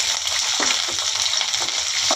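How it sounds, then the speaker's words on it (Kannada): Okra frying in about two spoons of oil in a pan gives a steady, dense sizzle with a few soft stirring scrapes throughout. "ಫಸ್ಟು ಬೆಂಡೆಕಾಯಿ ಫ್ರೈ ಮಾಡ್ಕೊಳ್ಳೋಣ."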